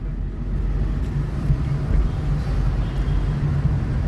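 Steady low engine and road rumble inside an Ola taxi car riding through Bangalore, a continuous droning hum with no talk.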